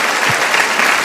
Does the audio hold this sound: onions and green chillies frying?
no